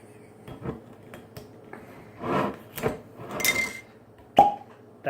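A series of close handling noises as a bottle of Glenlivet scotch whisky is opened: scraping, a twisting rasp and clicks, ending in a sharp pop-like snap, with quiet gaps between.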